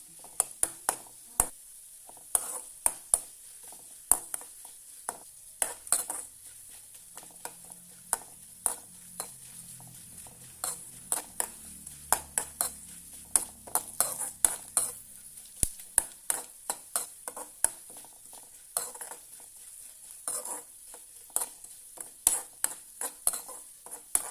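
Curry is stirred in a pan for a long stretch, a run of crisp scraping clicks and taps from a spoon against the pan at an irregular but steady pace, with a soft low sizzle underneath in the middle.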